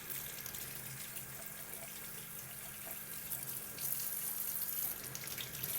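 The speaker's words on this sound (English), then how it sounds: "let's go ahead and get the water going" Tap water runs steadily into a sink, a constant broadband rush with a slight swell near the end, used to rinse etching cream off glass.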